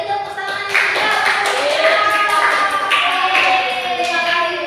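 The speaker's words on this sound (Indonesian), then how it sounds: "Ayo, beri tepuk tangan juga." Students in a classroom clap their hands together during a peer-teaching lesson, with rhythmic clapping joined by cheerful voices calling over it.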